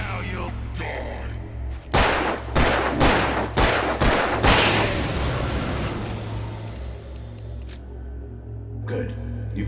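Several loud gunshots from a handgun in the Alan Wake video game ring out in a steady sequence, each sharp crack trailing into a long echoing decay over a low droning ambience.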